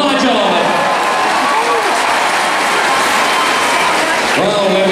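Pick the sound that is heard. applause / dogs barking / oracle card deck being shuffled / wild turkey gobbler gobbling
applause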